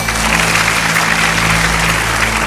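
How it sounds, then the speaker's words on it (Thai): A cheering section of an audience at a Thai TV fan-of-the-year quiz show about dog lovers applauds in a loud, dense, continuous wash of clapping, steady throughout. "สงสัยกองเชียร์จะปรบมืออีกนาน"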